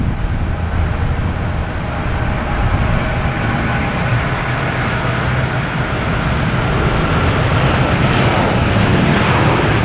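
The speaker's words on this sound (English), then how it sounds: "American Airlines 108, a 777, heading to London Heathrow" An American Airlines Boeing 777 jet at Boston Logan Airport gives a loud, continuous engine roar and broadband rumble that holds steady and swells slightly toward the end, with no talk.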